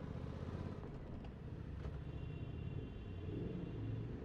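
Suzuki GSX-8R motorcycle riding through city traffic, its engine a steady low rumble throughout, close and continuous with faint traffic around.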